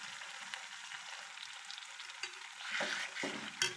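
Kadai paneer stirred in a pan on medium heat, a steady frying sizzle with soft scraping strokes of the spoon that grow louder toward the end, with no voices.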